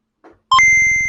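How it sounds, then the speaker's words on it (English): A sound-effect calculating computer gives a short burble, then sharp electronic beeps that settle into a sustained tone over a rapid pulsing buzz, loud and close. "Calculating computer activated. Computers. Beeps. Boops."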